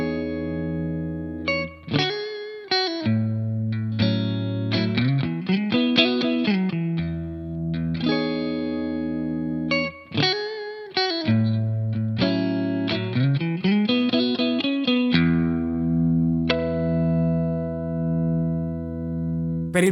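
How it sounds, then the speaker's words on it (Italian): Clean electric guitar through a Headrush MX5 Fender amp simulation with simple spring reverb, playing melodic phrases of single notes and chords that ring out with sustained tails, steady and close, with no talking. "Il primo suono è un clean ottenuto con una simulazione di ampli Fender con un semplicissimo riverbero"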